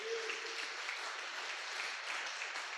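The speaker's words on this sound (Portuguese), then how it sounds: "Vamos dar uma salva de palmas ao Senhor" A church congregation gives sustained applause to the Lord during an online worship service, a steady, fairly faint wash of clapping with no break.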